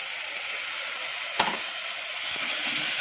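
Crushed ginger, garlic, chili, cumin and curry leaves sauté in a pan with a soft steady sizzle, broken by one sharp utensil knock and a faint scrape.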